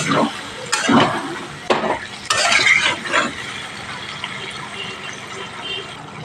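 Chicken curry with gondhoraj lemon leaves is stirred and sautéd in a pan after a little water goes in: several scraping stirring strokes early on, then a steady sizzle. No talk.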